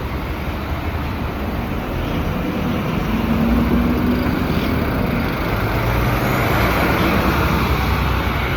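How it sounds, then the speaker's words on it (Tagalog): Dense, constant roar of road traffic in a city traffic jam, a close steady rumble of engines with a low tone rising briefly midway, no talking. "Traffic jam."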